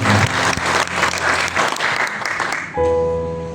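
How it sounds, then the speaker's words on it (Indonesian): A church congregation at a worship service breaks into loud, dense applause for a few seconds, then a sustained organ-like tone takes over as the clapping stops. "Tepuk tangan buat Yesus yang telah bangkit dari kematian."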